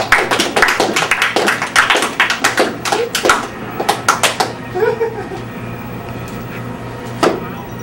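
An audience applauding at a show: a dense burst of quick claps that thins out after about four seconds into scattered claps and a single late clap, over a low steady room hum.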